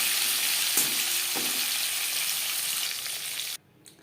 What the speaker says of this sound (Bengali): মাছ ভেজে নেওয়া কড়াইতে আবারও তেল দিয়েছি দিয়ে দিলাম এক মুঠো ডালের বড়ি